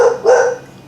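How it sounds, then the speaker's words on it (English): Dogs barking loudly nearby in a couple of quick, excited bursts, with no talking over them. "Our dogs are going crazy."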